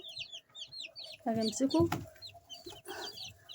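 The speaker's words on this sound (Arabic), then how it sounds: "الفرخ ده معاكي كده، ده فرخ درجة اولى" White broiler chicks on their first day chirp in quick, repeated high peeps, close by, while someone talks over them.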